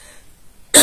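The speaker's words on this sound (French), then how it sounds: "Excusez-moi, je vais tousser." A single sharp cough bursts out loud and close after a moment of near silence.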